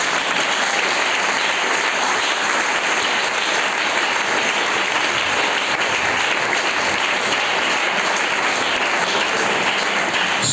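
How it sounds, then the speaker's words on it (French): Loud, sustained applause from a church congregation during a French-language sermon, dense continuous clapping with a steady crowd roar and no speech over it. "Yes, donnez-moi une acclamation, Seigneur."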